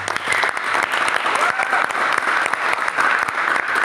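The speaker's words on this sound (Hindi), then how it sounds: "सबसे ज़ोरदार तालियाँ होनी चाहिए" Loud, enthusiastic applause from a crowd at a business achievement celebration, dense clapping close by that rolls on steadily with slight swells, no talking over it.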